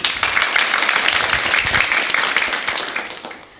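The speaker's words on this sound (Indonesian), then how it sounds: "Tepuk tangan dulu buat teman kita Priscilla" Sustained applause from an audience at a live children's storytelling session held by a primary school, recognizing a student storyteller; steady clapping across the whole stretch, tapering slightly at the end.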